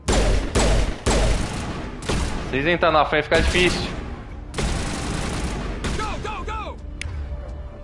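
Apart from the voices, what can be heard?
gunfire bursts in video game Mass Effect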